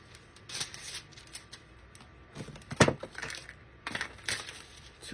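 Scissors snipping through foil tag material for glass and resin Christmas tags, a few sharp crinkly cuts and crunches close by, spaced irregularly with quiet gaps between.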